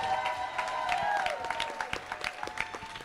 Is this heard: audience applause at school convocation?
yes